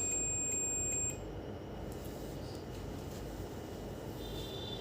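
A multimeter's continuity buzzer gives a high, rapid, pulsing beep for about a second and then cuts off, leaving faint background hiss. It sounds while the anode line is tested on the board of a Redmi Y2 phone with a no-display fault.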